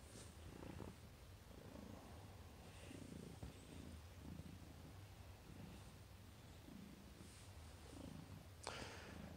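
Domestic cat purring close up, a steady continuous low rumble filling the whole stretch with faint rhythmic breathing pulses and a brief rustle near the end, no talking.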